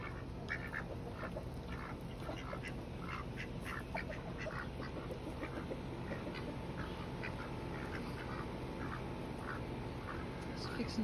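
Pekin ducks on a small farm give scattered, faint quacks at a distance throughout a steady outdoor background, with soft murmurs now and then.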